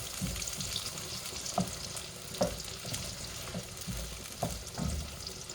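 Okazi soup with blended peppers and onions cooks in a pot with a steady sizzling bubble and occasional soft stirring knocks, close and continuous.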